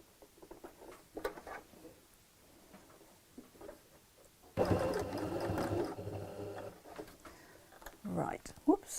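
A sewing machine runs in one short burst of a couple of seconds through tote bag lining, set among soft handling noises and someone talking quietly.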